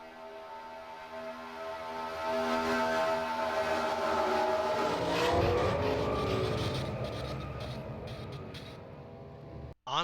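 Race cars in a SERL American Ethanol Series race roar past and build to a loud mid-clip peak as several cars wreck into the SAFER barrier. The engine noise fades afterwards and ends in an abrupt hit.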